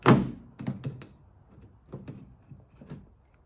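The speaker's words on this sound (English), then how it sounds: "Then remove your door handle, pull it back towards the rear of the car." A heavy thunk followed by several lighter plastic clicks and knocks as a Toyota FJ Cruiser door handle is pulled loose toward the rear, close and intermittent.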